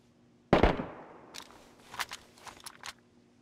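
Two sharp gunshots in DayZ, a loud close report followed by quieter distant cracks that ring out over about three seconds with no talking.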